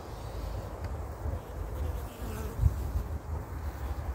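A calm honeybee colony buzzes at an opened hive, a steady close droning hum with slight swells in loudness and no talk.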